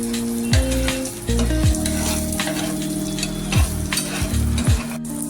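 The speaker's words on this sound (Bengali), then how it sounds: "এটা রসুন আর পেঁয়াজটা একটু নাড়।" Garlic and onion fry in a pan under a steady, close sizzle. A spoon stirs them with repeated scraping strokes against the pan, and no one speaks.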